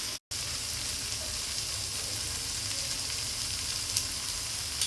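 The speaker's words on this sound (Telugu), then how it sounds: "టొమాటోలు మెత్తపడేదాకా సన్న మంట మీద ఉడికించుకుందాం" Tomatoes and half-cooked vegetables simmer over a low flame with a soft, continuous sizzle and faint crackle, steady throughout after a momentary dropout near the start.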